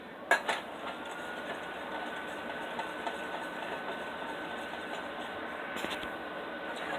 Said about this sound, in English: Okay, so we're just stirring, stirring, stirring.